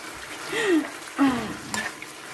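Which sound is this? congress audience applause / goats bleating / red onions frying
red onions frying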